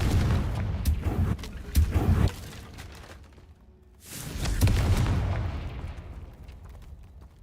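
Fiery spell blasts from the Confringo curse in the Hogwarts Legacy video game, two loud booming bursts with crackling tails, a quieter gap, then a third heavy blast fading out slowly.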